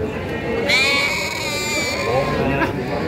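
Sheep at the Padalarang livestock market let out a long wavering bleat, then another shorter bleat, heard close over a busy market crowd with people talking throughout.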